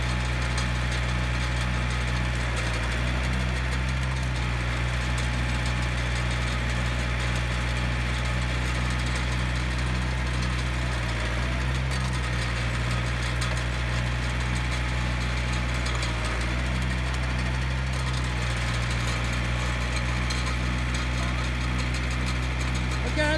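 Small gasoline engine on a post hole auger running steadily at idle, a loud, continuous buzzing drone up close with faint voices under it.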